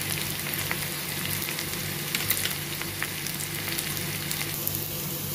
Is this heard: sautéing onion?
yes